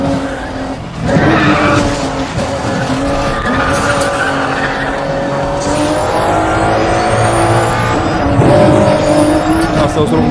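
An Aston Martin races in Need for Speed: The Run, its engine droning loud and steady with shifting pitch and tire squeal as the car corners, continuous for about ten seconds.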